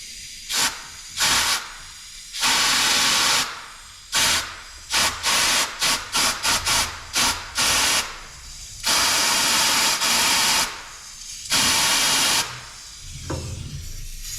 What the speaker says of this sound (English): I'm gonna put a little air down that fuel line